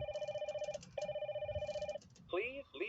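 An older VTech toy phone ringing, two long electronic rings with a steady buzzing tone, each about a second, followed by a short burst of synthetic toy voice.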